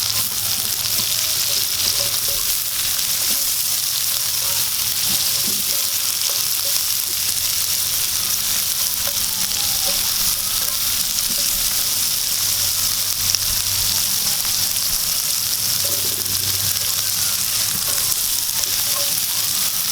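Onion frying in a pan, with a steady, dense sizzle and crackle that holds at an even level throughout, with occasional light stirring scrapes.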